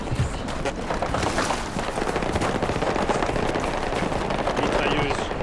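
Machine gun fire in the video game Battlefield 6 rattles in dense rapid bursts throughout, loud and close, with voices talking over the gunfire.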